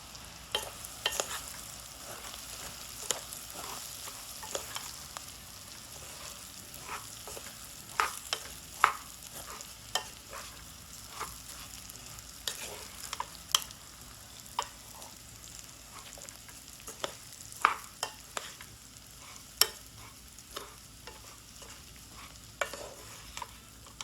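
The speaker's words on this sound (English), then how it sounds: "you want to slightly toast the rice" Rice grains toasting in a hot pan for saffron pilaf, stirred with a utensil: a steady soft sizzle broken by frequent sharp scraping and tapping strokes, close and moderately loud, with no talking.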